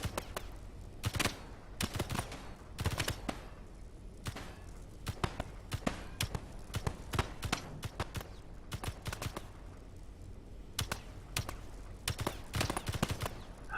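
Turret gun firing in Space Engineers, sharp broadband shots in irregular bursts and single cracks spread across the whole stretch, fairly close and loud.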